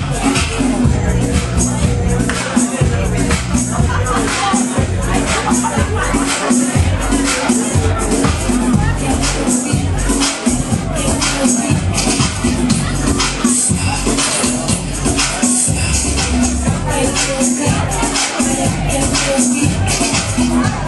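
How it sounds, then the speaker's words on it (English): Club crowd at a DJ gig, a dense continuous hubbub of voices and movement under loud pounding dance music with heavy low-end beats, steady and close throughout. "we got the crowd jumping."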